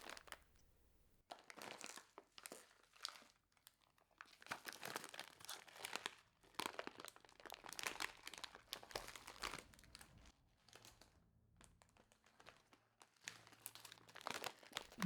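Kimchi-flavoured instant noodle packets crinkle and crackle close up in bursts of plastic rustling, with short quiet gaps between rounds of handling. The sound is soft and no one speaks.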